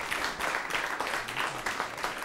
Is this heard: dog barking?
no